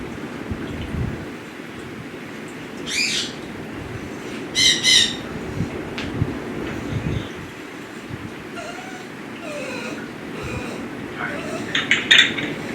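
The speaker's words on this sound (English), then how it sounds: "I only thing I heard was the bird squeaking" A bird gives a few short, high squeaky chirps scattered over steady background noise, with occasional faint clinks.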